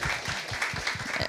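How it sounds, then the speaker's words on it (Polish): A theatre audience applauds briefly at moderate distance, with rapid, uneven claps blending into a soft wash. "Brawa, brawa."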